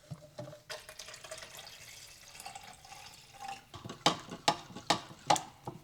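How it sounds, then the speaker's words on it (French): Cold water is poured into a bowl of harissa broth, a soft splashing trickle followed by several brief, sharper pours and splashes near the end, close and fairly quiet with no talk. "Et là, on va pouvoir diluer dans de l'eau. Donc comme toujours, de l'eau bien froide."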